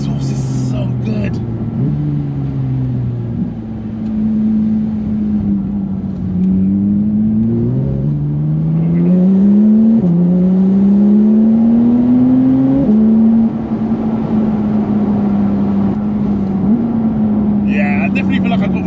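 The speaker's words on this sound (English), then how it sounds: "That exhaust is so good." A Porsche 992 GT3 Touring's exhaust howls as the engine climbs through repeated upshifts, each gear's rising pitch stepping down at the shift, loud and steady from inside the car.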